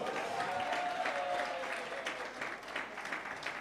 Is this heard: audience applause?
yes